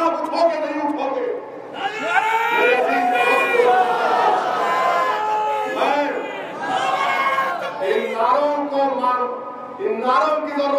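A large crowd at a Jalsa Youm-ul-Quran rally chants slogans in unison. Loud, rhythmic group voices rise and fall in repeated waves, close and continuous.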